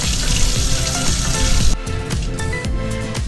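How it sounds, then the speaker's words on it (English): Water poured into a pot of collard greens seasoned with sea salt, a steady running, sizzling pour that shifts midway into a lighter, bubbling splash, with no talk. "Then I'm gonna add a cup of water."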